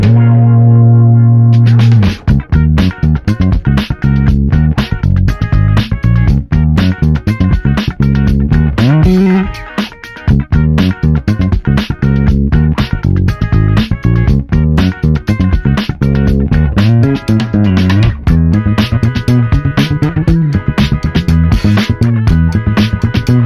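A bass guitar plays a steady, punchy line with even, compressed attacks and a brief pause midway, loud and continuous with no talking.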